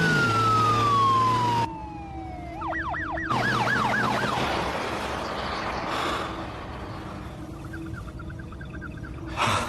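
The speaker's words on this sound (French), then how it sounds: "C'est peut-être pas pour nous, la sirène." A loud emergency siren wails and yelps with rising and falling sweeps, fading in and out over steady road noise.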